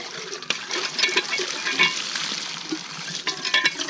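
Clean water splashes steadily from a hand-pumped well after the leaves and debris are flushed out, a continuous close gushing hiss with small surges and no one talking.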